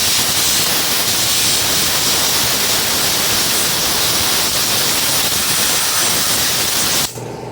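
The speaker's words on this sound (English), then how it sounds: "Let me get some air. Give it all a good blow off." Compressed air blasts over a Dolmar PS-510 chainsaw during a coil replacement, a loud, continuous close-up hiss that runs unbroken for about seven seconds before cutting off abruptly.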